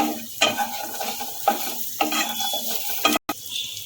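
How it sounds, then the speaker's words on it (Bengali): A quarter of an onion lightly stirred as it fries in a pan of oil for broccoli pasta: a steady close sizzle broken by scraping stirs every half second or so, with a brief pause near the end. "পেঁয়াজটাও হালকা নাড়বে খুব বেশি নাড়ার দরকার নেই"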